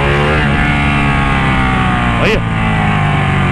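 A Ducati Panigale 1199 motorcycle engine runs and revs with a steady, loud harmonic drone throughout, while someone talks over it.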